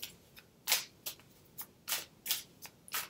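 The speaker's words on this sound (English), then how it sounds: "So I shuffle the whole deck, and I'm only looking for ace to 10 of cups." A tarot card deck is shuffled by hand in quick, papery bursts, about eight short riffles and slides spaced unevenly over three seconds, close and fairly quiet, with no voices.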